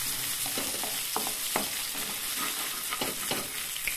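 Green chilies sizzle and fry in a pan while being stirred, with steady frying hiss and several scraping stir strokes close by.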